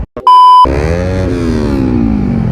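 A Honda CBR motorcycle, running stock porting specs with a remap, fires up after a short electronic beep, and its engine note then rises and settles into a steady, close idle.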